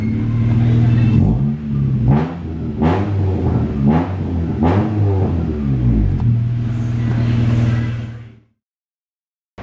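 A Honda EK car fitted with a custom racing exhaust revs loudly and close by, its steady rumbling idle broken by several sharp throttle blips before cutting off abruptly near the end.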